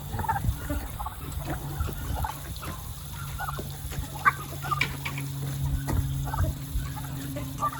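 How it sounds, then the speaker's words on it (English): Farm turkeys eat pumpkins, giving scattered clucks and short gobbling calls over a low steady hum, with faint distant bird sounds mixed in. "Turkeys eating pumpkins."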